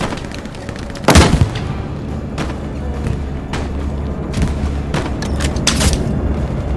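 Bombs from an air strike in Hell Let Loose detonate one after another, a heavy near boom followed by a string of sharp blasts and rumbling impacts spread over several seconds against steady battlefield noise.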